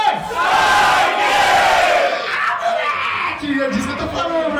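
Live battle-rap audience in Brazil roaring, cheering and shouting together as one loud, sustained crowd wave that surges and slowly fades, with a host's voice cutting through.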